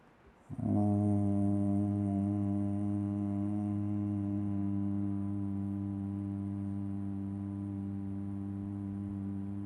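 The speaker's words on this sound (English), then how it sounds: "We are going to make humming bee sound for this pranayama" A steady, deep humming tone from the throat, made as humming bee breath (bhramari pranayama) on the exhale, starts abruptly and holds evenly for about nine seconds, like a long sustained buzz.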